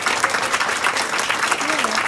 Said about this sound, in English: So please stand and help me applaud them.